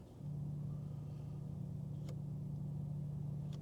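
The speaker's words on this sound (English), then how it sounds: "a slight hum, which is a sort of a synthetic engine noise" A quiet, steady synthetic engine hum from a Maserati GranTurismo Folgore electric car in sport mode, starting abruptly and holding an even low drone with a couple of faint clicks.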